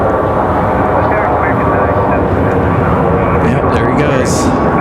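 A Delta Airbus A220 airliner takes off from Raleigh-Durham International Airport, its jet engines producing a loud, steady roar that fills the whole stretch while a person talks faintly underneath.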